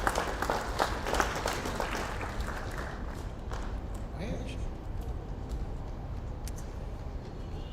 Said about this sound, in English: You will just continue to clap,